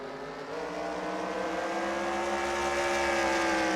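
SRX series race cars roar around Stafford Motor Speedway during a 20-lap heat race, a loud sustained engine drone with rising harmonic pitch as cars accelerate down the back straightaway, steady and continuous.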